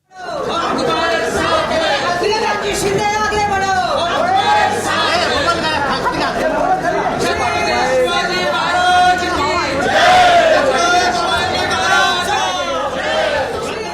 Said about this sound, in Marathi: शिवसेनेनं विधिमंडळाच्या पायऱ्यांवर केलेला हा जल्लोष